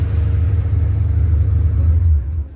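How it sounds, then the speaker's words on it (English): A Ferrari 400i engine rumbles at low idle while the car parks at an outdoor car gathering, a deep steady close drone that eases slightly near the end, with faint voices around. "Nice. Ferrari 400i. Good parking under pressure, sir."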